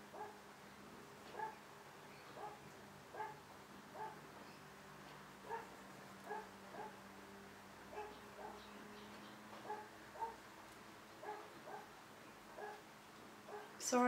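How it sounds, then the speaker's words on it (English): A dog barks in faint, regular single barks, about one every second or so, distant behind a quiet indoor room tone. "Sorry about the barking dog"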